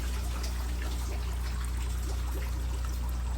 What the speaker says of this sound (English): I don't know if you can see that water flowing.